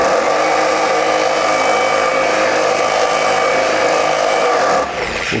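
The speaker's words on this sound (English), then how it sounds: "Turn the polisher up to speed 3." Polisher at speed 3 spinning a damp waffle pad inside an Optimum pad washer, a loud constant whirring drone that dips and shifts just before the end.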